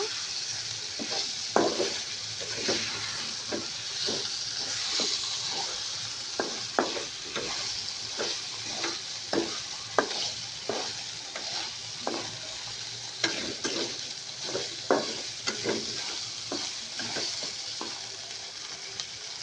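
A fish head being fried and stirred into cooked-down spice masala in a pan: a constant sizzle broken by regular scraping and stirring strokes, close and unaccompanied by voices.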